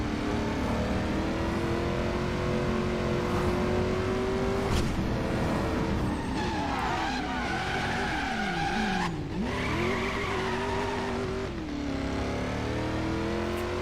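A Ford GT engine in the video game Driver San Francisco revs and rises in pitch, shifting through gears, with tire squeals and skids along the way, loud and close throughout.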